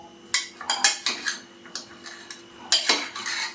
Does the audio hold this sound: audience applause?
no